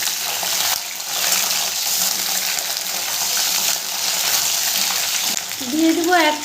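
Flat beans frying in a pan with kalo jeera tempering, a steady close sizzle and occasional stirring scrapes, with a brief clink near the end.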